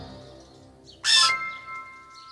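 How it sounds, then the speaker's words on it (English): A bird in the Endless Learning Academy game gives a single bright, loud chirp partway through, standing out sharply over a quiet background of game music. "The bird chirped thank you to Frances for saving her egg."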